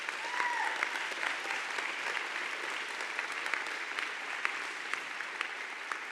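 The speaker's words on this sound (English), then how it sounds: "Let's give them a hand of applause." Applause for the project team at the Salesforce Transit Center opening ceremony, a sustained, even crowd clapping heard from some distance with scattered sharper claps throughout.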